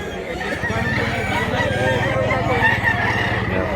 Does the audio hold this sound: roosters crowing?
yes